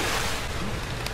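Water splashes and sloshes in the horror game Amnesia, a brief, close burst of watery churning and noise with no talking over it.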